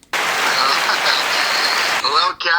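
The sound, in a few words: applause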